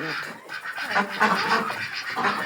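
Farm ducks quack and honk in a continuous, overlapping chorus nearby, a busy flock calling with little pause.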